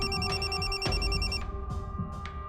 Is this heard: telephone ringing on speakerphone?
yes